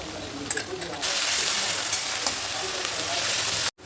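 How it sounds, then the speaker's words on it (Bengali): Ginger, garlic and onion paste hits hot oil with a loud, close, continuous sizzle that swells after a brief quieter start and holds steady to the end. "এবার এটা দিয়ে দেবো আদা রসুন পেঁয়াজ"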